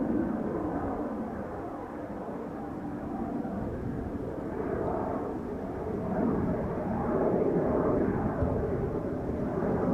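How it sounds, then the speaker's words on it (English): A Boeing 737 airliner on the Polderbaan runway at Schiphol, a broad steady jet roar that swells and fades gently over several seconds, heard from a distance outdoors. "Got another 737 coming this way."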